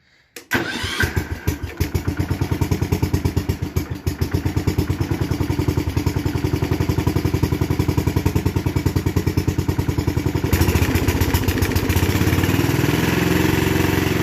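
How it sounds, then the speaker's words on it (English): A Wheel Horse garden tractor's small engine cranks and catches, then runs with a loud, close, rapid steady putter that briefly rises in pitch near the end as it backs out, with no voices over it. "let's go ahead and let's back the tractor out"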